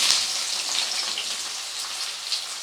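Chopped onion hitting hot oil with whole spices while cooking chicken masala, giving a steady bright sizzle and crackle that continues evenly throughout, close and loud.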